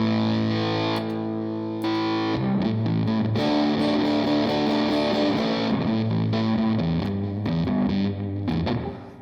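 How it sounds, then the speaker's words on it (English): A heavily distorted electric guitar through a Line 6 Pod Express distortion setting plays sustained chords and riffs, loud and continuous, with a fuzzy, saturated tone throughout. "So now it's a distortion pedal."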